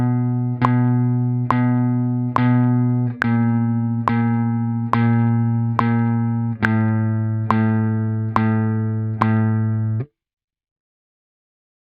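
Guitar notes are fretted with the left hand and plucked one at a time, about ten evenly spaced notes that each ring clearly until the next, shifting pitch slightly partway through, then a silent gap, with no talking.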